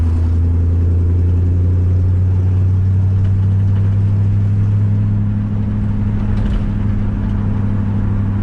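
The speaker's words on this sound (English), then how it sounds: "there's our quick little ride and drive around the block" A 1950 Ford F1 pickup truck drives around the block, its engine giving a loud, steady low rumble inside the cab with small changes in tone and no speech.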